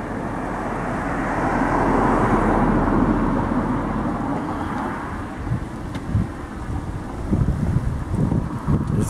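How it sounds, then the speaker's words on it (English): Wind blowing hard and steadily outdoors, a broad rushing roar that swells and eases, with buffeting gusts against the microphone toward the end and no voices. "It's windy."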